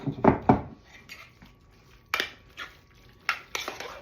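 Cornbread stuffing for Thanksgiving being mixed in a bowl, a few sharp clanks and scrapes of a utensil against the bowl in separate bursts with quiet gaps between, close by and without talk.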